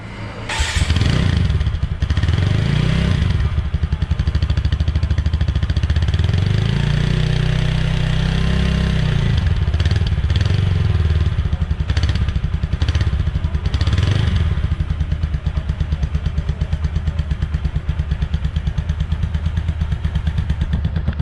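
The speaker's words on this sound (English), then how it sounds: "Now we will hear the sound of this exhaust." A TVS Apache RTR 160 4V motorcycle with a double-barrel exhaust idles loudly up close, its engine revved in several rising and falling blips over a steady thumping idle.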